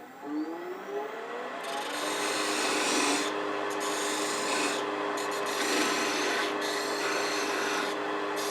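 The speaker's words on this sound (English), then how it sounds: "I have this shear spear made out of a scrap of steel from Harbor Freight" A steel shear scraper cuts a spinning wooden snowman ornament on a lathe, producing a steady rasping, rubbing scrape over a low motor whir with brief pauses and no talking.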